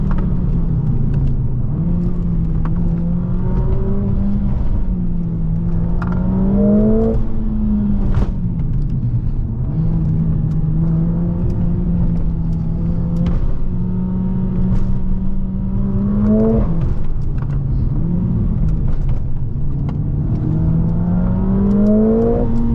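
Mercedes-AMG A 45 S 4MATIC+ pulling hard in second gear on hilly lakeside roads near Lake Como, engine note rising steadily and dropping with each shift, loud and continuous from inside the car.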